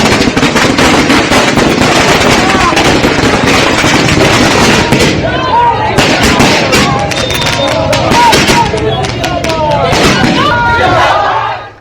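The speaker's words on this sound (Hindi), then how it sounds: "सम्राट पहुंचे तो फिर पटाखे जलने शुरू हुए" Dense, rapid crackling bursts of firecrackers set off at a political victory celebration in Bihar, loud and continuous for the whole stretch with a busy crowd murmur underneath, tapering off at the very end.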